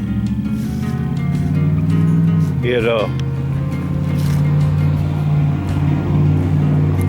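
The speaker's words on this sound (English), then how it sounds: "let the truck go by" A truck drives past on the road beside a car being fitted with a spare for a flat front tire. It makes a steady, close, low engine rumble that holds through the whole stretch, with a brief chirping squeak partway through.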